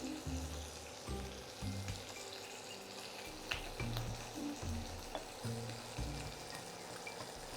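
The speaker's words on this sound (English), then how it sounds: "While our bacon is crisping up" Bacon fries over low heat in a pan, a steady faint sizzle and crackle running throughout with occasional light clicks, no voices.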